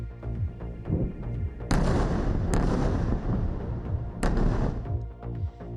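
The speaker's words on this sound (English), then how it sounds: "Large explosions are seen in Gaza as Israel's bombardment only builds" Heavy, deep booms from Israeli bombardment of Gaza roll out one after another, three sharp blasts standing out from a continuous low rumble of distant bombardment.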